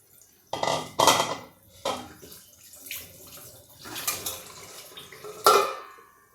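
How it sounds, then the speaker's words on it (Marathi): Chivali bhaji vadas, coated with sesame seeds on one side, are turned over in a frying pan. About half a dozen separate clinks and scrapes of a utensil against the pan sound close by, with quiet gaps between them and no talking. "आता हे वडे एकदा मी तुम्हाला पलटवून दाखवते।"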